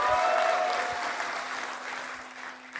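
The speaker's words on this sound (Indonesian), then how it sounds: "kita berikan tepuk tangan yang meriah" Applause from an audience at an academic ceremony for a professor, a steady mass of clapping with a brief tonal whistle or feedback near the start, gradually fading over three seconds.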